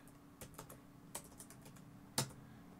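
Scattered keystrokes tap on a computer keyboard while a script is typed, a handful of quiet, irregular clicks with one sharper key press near the end, no talking.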